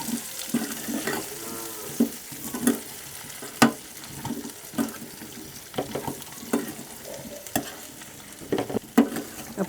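Drumstick pods in Gujarati-style masala curry are stirred while frying: a soft, constant sizzle broken by regular, close scrapes and knocks of the spoon, some wet and splashy, with no talking.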